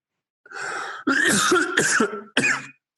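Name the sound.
cough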